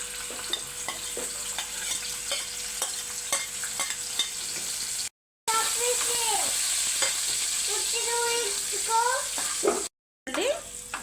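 Lentils and onions fry in hot oil, a bright continuous sizzle with repeated stirring scrapes and clatter, loud and close, cut by two short silent gaps, with no voices.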